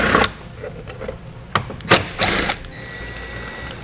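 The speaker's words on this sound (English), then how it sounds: "Now we'll remove the 2 screws behind it using a T15 Torx socket." A T15 Torx socket backs out two screws behind a vehicle taillight with short ratcheting clicks and a few sharp mechanical bursts. The sounds are close and fairly quiet over a low background hum.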